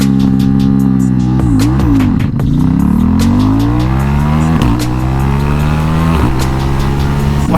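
A Ducati Diavel motorcycle pulls away in first gear, its loud engine rising in pitch through several throttle blips and surges, recorded close with no talking.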